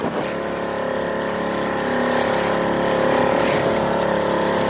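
A boat's new engine drones steadily during a ride across open sea toward an oil rig, a loud, continuous hum with a constant pitched tone and rushing water wash that swells slightly midway.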